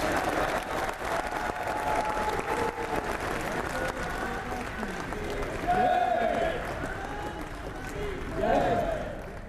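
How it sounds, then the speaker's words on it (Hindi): A large crowd applauds steadily at the inauguration of the new Vadodara Airport terminal, a continuous wash of clapping under an announcer's amplified voice welcoming dignitaries. "आप सबकी तालियों की गर्जना के बीच"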